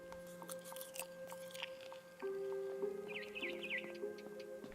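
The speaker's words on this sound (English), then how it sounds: "I kept eating and eating." Soft chewing and biting sounds from the What Remains of Edith Finch game play faintly over a quiet ambient bed with steady tones and brief bird-like chirps, with no talking.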